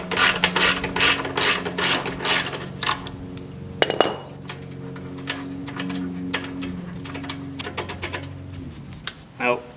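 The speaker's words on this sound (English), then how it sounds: "10mm to loosen the bolt on this collar here." A 10mm ratchet clicks in quick bursts while loosening the bolt on an exhaust collar of a 2019 Kawasaki ZX6R during an M4 exhaust install, close up, with a person talking over the work.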